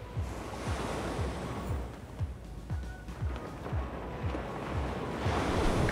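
Gulf of Mexico surf washing onto a Grayton Beach shoreline, a continuous broadband wash with recurring wave surges and some wind rumble on the microphone, steady and moderately distant with no voices.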